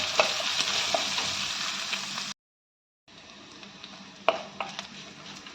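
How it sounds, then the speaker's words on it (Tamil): Onions and curry leaves sauté in a hot pan for an upma made with rice, giving a steady close sizzle and frying crackle with stirring scrapes; the sound drops to silence briefly, then resumes quieter with a few sharp spatula knocks. "வெங்காயத்தையும் அதிலே போட்டுடலாம். போட்டு கொஞ்சம் வதக்கிடுது."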